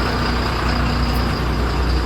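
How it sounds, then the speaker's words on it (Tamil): A lorry's diesel engine idles steadily after being started, a continuous low rumble with broadband noise that holds even and close throughout, with no voices. "ஒரு ரவுண்டு அடித்து பார்த்துட்டு வண்டியை ஸ்டார்ட் பண்ணி விட்டுருக்கேன்"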